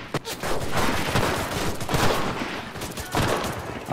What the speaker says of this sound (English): someone shooting from up there